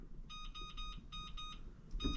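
A kitchen timer beeps in quick repeated clusters of high electronic tones, fairly faint, with a short pause between groups.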